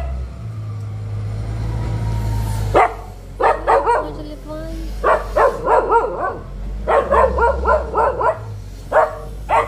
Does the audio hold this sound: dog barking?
yes